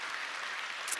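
Steady, dense audience applause at a seminar fills the clip, many hands clapping continuously at an even level without any talking.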